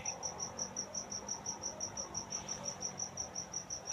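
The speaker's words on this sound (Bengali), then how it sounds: "বাইরে সে যে পোকার ডাক কানে পড়ছে" Crickets chirp outside at night in a steady, rapid pulsing trill, faint and continuous over a quiet background.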